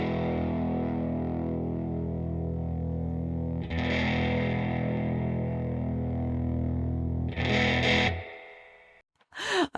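Electric guitar runs through an effects pedal with both input gains maxed, giving thick, heavily distorted sustained chords that ring out, are restruck twice, then cut off with brief scratchy string noise at the end.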